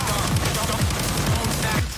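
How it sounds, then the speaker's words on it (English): Explosive shotgun rounds blasting in Payday 2, a rapid series of about five heavy booming shots at a steady pace over dense, loud game noise with chatter. "Use the explosive shotgun."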